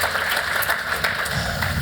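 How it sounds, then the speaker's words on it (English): A conference audience at a Toronto crossmedia event claps for the speaker Brad, a short burst of scattered applause under two seconds long. "Round of applause, Brad"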